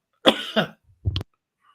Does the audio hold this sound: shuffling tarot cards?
no